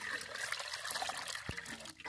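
Water poured into a bucket of campfire-heated water mixed with sugar and a bacterial product: a steady, close splashing trickle that runs for about two seconds with no break.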